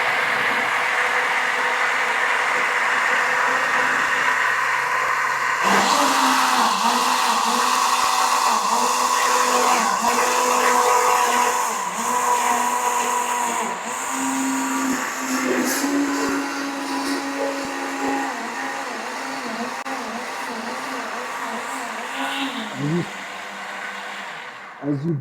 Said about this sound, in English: just put it in my blender